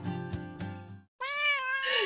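A cat meows several times through a filtered, radio-like effect, starting with a few low, rough calls, then a brief silence, then two longer, higher, tonal meows, close and clear with no talk.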